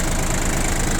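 A Yanmar F20D mini tractor engine idles steadily, a close, loud, even diesel rumble with slight knocking and vibration throughout.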